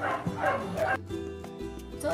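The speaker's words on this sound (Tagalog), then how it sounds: "tumigil muna ako mag-film kasi may tumahol na aso sa amin" A dog barks several times nearby in short, sharp yips mixed with whimpering, and a person is talking at the same time.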